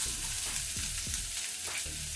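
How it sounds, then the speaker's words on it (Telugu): Amla (Indian gooseberry) pieces frying on a low flame, a close, steady hiss of sizzling oil with a few soft stirring scrapes, brief and continuous, no speech. "ఇలా వేసుకొని లో ఫ్లేమ్ మీదనే ఒక 10 నిమిషాల వరకు మనము వీటిని ఫ్రై చేసుకోవాలి"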